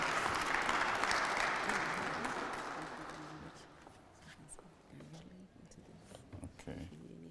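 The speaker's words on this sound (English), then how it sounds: "Ladies and gentlemen, with a round of applause" A keynote audience applauds loudly at first as the speaker walks out, the clapping fading gradually into scattered claps and a few murmurs.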